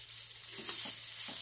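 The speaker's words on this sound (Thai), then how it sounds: "เราก็จะผัดกระเทียมนะคะกับหมูสามชั้นที่เราเอามาเจียวนะคะ" Garlic stir-fries with crisped pork belly in a hot pan, a soft continuous sizzle with a few light scraping stirs, fairly quiet and close.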